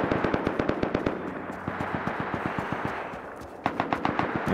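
Sustained automatic AK rifle fire in the survival game Rust, rapid loud bursts of shots repeating steadily, with a few sharper nearer shots after a brief lull.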